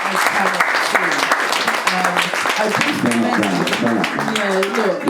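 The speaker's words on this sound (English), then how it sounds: "Big round of applause" Loud, dense audience applause fills a talk evening with Paul Canoville, with voices cheering and talking over the clapping throughout.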